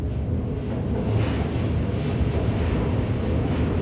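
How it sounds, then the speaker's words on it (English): Train passing overhead above a London underground bunker, a continuous loud low rumble and roar filling the space for several seconds with no talk. "There's a train above."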